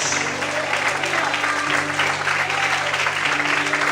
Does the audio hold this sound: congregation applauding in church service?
yes